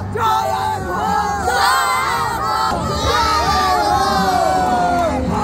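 Crowd celebrating a Kalaripayattu team's victory with medals at the Khelo India Youth Games: loud, continuous cheering, yelling and whooping from many young voices close by.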